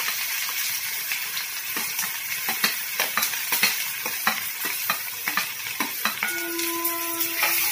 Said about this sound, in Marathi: आता हा कांदा लगेच टाकायचा फोडणी झाल्यावर.